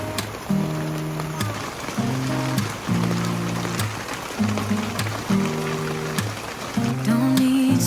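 Heavy rain pours down during a motorcycle ride, a steady hiss under a pop song playing over it, with short, evenly spaced musical notes.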